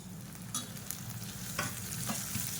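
Green turkey berries (sundakkai) sautéing in oil with green chillies, a steady close sizzle broken by several scraping stirs of a spoon against the pan.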